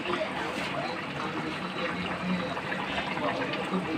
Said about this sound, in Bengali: আমার ঝোল ফুটে গেছে